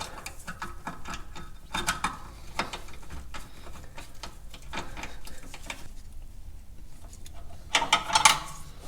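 A ratchet wrench tightens a 13 mm bolt on a rear brake caliper upgrade for a 1996–2002 second-generation Dodge Viper, giving rapid clicking pawl bursts up close with short pauses and a final louder run.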